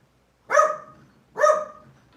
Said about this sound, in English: My dogs are gonna bark.